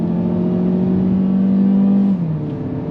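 A 2024 Mazda CX-3 pulls away in manual mode in first gear on a damp road, its engine droning loudly with rising steady pitch before dropping as revs ease.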